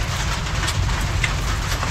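Steady rain pouring down outdoors beside a house and fish pond, a dense, even hiss at a constant loud level with no pauses throughout.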